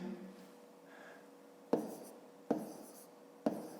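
Numbers for a long division of 288 by 18 being written in a fifth-grade maths lesson, with a quiet scratchy stroke and then three sharp, evenly spaced taps, close and alone.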